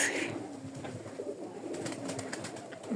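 Domestic pigeons, including Bukhara and other breeds, coo softly in a backyard loft in winter, low murmuring calls repeating steadily over faint background rustle.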